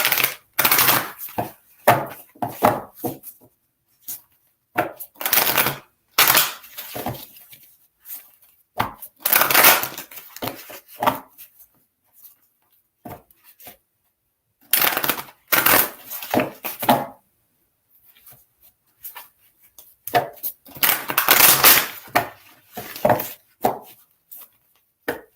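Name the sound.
shuffling tarot cards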